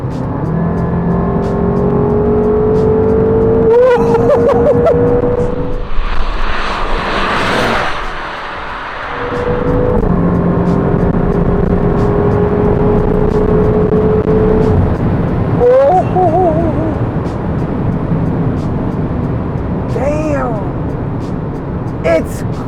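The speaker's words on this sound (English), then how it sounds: "We're gonna try to give it a little bit of a kick down here." A BMW M5 F10 accelerates hard on kickdown, the engine note climbing in strong surges heard from inside the car while someone speaks over it.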